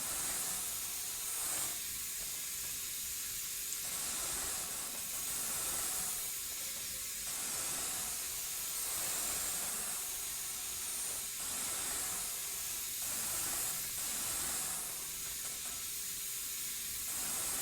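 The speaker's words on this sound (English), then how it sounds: "just gotta blow this thing out here" Compressed air hisses steadily as it blows dirt out of a dirty tractor radiator on a hay farm, a continuous close rush of air with small surges in strength throughout.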